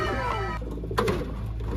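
Pigeons coo close by, a few soft, low rounded calls over a steady low background hum, with no voices.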